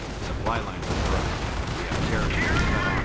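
Light machine gun fire in the Company of Heroes game, dense rattling bursts and battle noise under continuous talk from a commentator.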